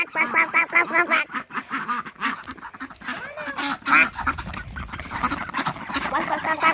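Ducks quack busily close by in a steady, overlapping chatter of short nasal calls that continues throughout, with little or no talk over it.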